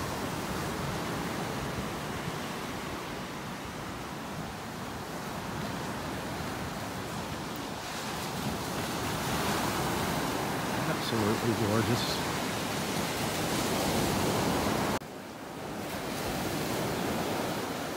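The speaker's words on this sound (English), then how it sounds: "Listen to those waves." Steady surf washing onto a beach in North Naples, Florida, on an early morning walk, a continuous broadband roar that swells slightly and briefly dips near the end, with someone speaking quietly over it.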